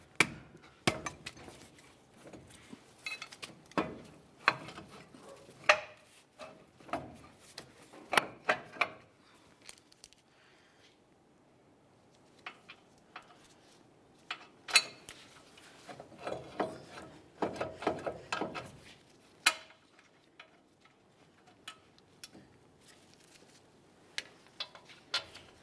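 21mm headed brake caliper mounting bolts being started by hand on a 2005-2010 Dodge Dakota front end, irregular close metallic clinks, taps and scrapes with quieter stretches between bursts, no talk.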